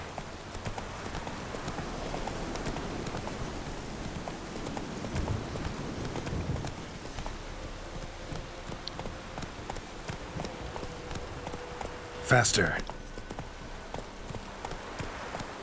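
Hooves of a horse galloping in The Witcher 3 video game, a steady rapid clip-clop running throughout, with a brief spoken word and a short loud burst near the end.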